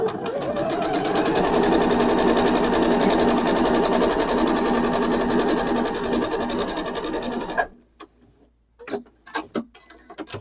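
A sewing machine stitching log cabin quilt seams runs in a steady, fast mechanical chatter for about seven seconds, then stops, leaving a few faint clicks and handling noises.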